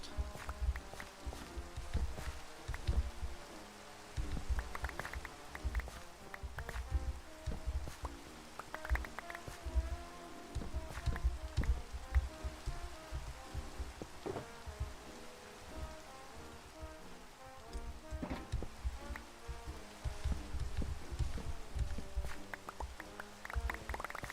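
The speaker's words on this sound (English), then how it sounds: "Because speaking of rain, leave it to Minecraft." Rain falls steadily in Minecraft as a soft, continuous patter, while faint footsteps and tonal game sounds come and go over it at moderate volume.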